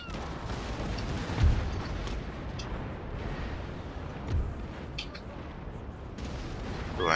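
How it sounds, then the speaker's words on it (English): Naval cannon broadsides boom from warships in a Napoleonic-era naval battle game, with two heavier thuds standing out against a continuous rumble of distant gunfire. "Ooh, I'm taking some heavy fire."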